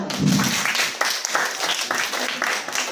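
Students in a school classroom give a round of applause, a loud burst of many close hand claps with uneven accents, with a brief voice at the start.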